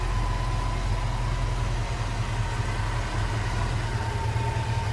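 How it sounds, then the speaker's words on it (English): A 1988 Ford Mustang LX convertible's 5-liter V8 idles smoothly and steadily, a low rumble close by that holds even throughout, with no talk over it. "Smooth running V8."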